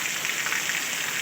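Heavy downpour in Maliya Hatina, a dense steady hiss of rain falling on surfaces, loud and even for the whole short stretch with no voices.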